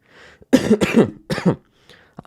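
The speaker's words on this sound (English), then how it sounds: "It's just a dry cough." Several quick, dry coughs in a short cluster, close and fairly loud, followed by a faint breath.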